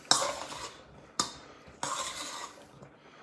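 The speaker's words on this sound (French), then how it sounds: "on va venir déjà bien mélanger" Utensils clink and scrape against a bowl as a pasta salad is mixed, three bright bursts of clatter separated by short pauses, close and alone with no talk.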